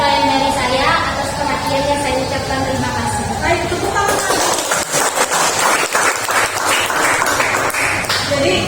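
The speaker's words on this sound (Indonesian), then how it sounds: "Baik, tepuk tangan" After a class presentation, an audience breaks into clapping, with voices and chatter mixed in, and the noisy claps keep going to the end.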